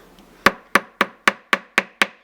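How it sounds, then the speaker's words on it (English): A hammer strikes a silver ring band seven times in a steady, evenly spaced rhythm, each sharp metallic tap close and clear with a short ringing decay, no voices. "you're going to hammer the band down like this"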